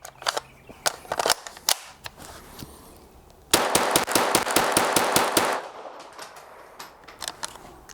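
A Kriss Vector KV22 .22LR pistol fires many quick sharp cracks, first in spaced shots, then in a loud, close rapid string with ringing echo, followed by a few scattered shots.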